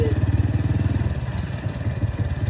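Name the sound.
motorcycle engine idling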